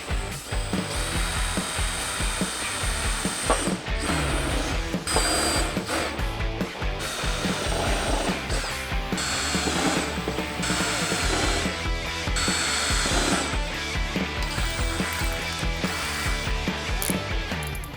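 A center drill bores starting holes in a Toyota Tacoma fender for a snorkel install, giving a steady, loud grinding whir that carries on without a break for the whole stretch, with no voices.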